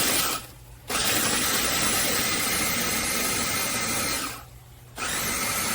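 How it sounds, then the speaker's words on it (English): A KitchenAid food processor crushes cookies for a cheesecake crust, a loud close whirring motor run in pulses, briefly stopping twice before starting again. "I push this button right here. And it processes our cookies."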